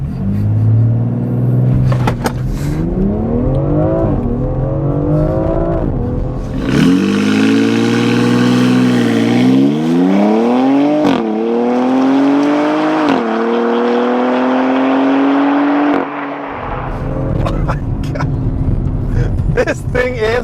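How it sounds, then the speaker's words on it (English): A 2021 BMW X4 M Competition makes a launch-control start and accelerates hard. Loud engine roar climbs in pitch through several upshifts with brief dips between gears, then settles back to a lower rumble. "BMW X4M Competition launch control."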